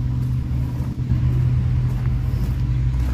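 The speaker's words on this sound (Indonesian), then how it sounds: "Ini truk yang pertama, soalnya yang kedua tadi tarik ya, itu yang terakhir menanjak." A Mitsubishi 6x2 truck engine labours up a steep incline, a steady, loud low rumble that holds near and constant with slight surges in effort throughout, no voices over it.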